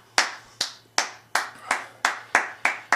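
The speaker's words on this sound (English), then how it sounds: "I think we'll go for 14 claps per second" One person claps hands in a steady warm-up rhythm, about eight crisp, evenly spaced claps at roughly three per second, each sharp and close with a short decay, in a quiet room without talk.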